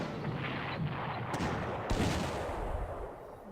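An auxiliary anti-tank gun fires in the Panzer Corps strategy game, a loud cracking shot that rolls into a dense, rumbling burst of battle noise.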